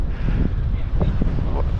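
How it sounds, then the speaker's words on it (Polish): Loud, buffeting wind roaring straight into the microphone, low and rumbling, with a voice faintly underneath. "teraz bardzo mocny wiatr wieje, to w ogóle nic nie było słychać"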